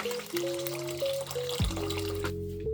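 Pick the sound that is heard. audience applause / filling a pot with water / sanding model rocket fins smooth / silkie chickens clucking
filling a pot with water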